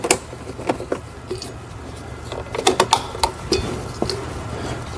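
Bolts being started by hand on a Saturn Sky, heard as close irregular mechanical clicks and ratcheting taps over a low background hum.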